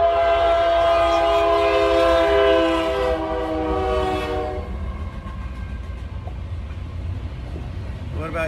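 A passing train sounds a loud, sustained multi-tone horn for about four seconds, then the horn cuts off, leaving the lower rumble of rolling railcars.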